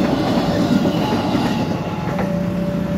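Commuter train rolling past a railway level crossing at Bintaro Permai in South Jakarta, a loud continuous rumble of wheels and cars close by, heard alone throughout.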